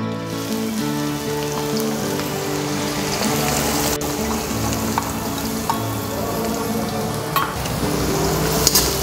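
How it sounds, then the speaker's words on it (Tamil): Finely chopped onions with curry leaves and cloves sizzle in hot oil in an iron kadai over medium flame, a steady close crackle and hiss running unbroken, with a couple of sharper spits and stirring scrapes. "பொடியாக நறுக்கின வெங்காயத்தை சேர்த்துக்கலாம்."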